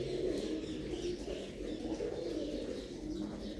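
Pigeons in a loft coo steadily and close by, a continuous low murmur of overlapping calls with faint chirps over a constant background.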